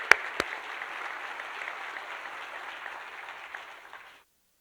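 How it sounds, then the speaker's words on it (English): An audience at a school district celebration claps in a steady, moderate wash of applause that fades out near the end, with a couple of sharp knocks at the start. "So another round of applause there"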